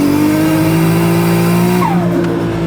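An Australian AU drift ute's engine revs hard and steady, a loud, close, sustained drone whose pitch holds high and then drops away near the end.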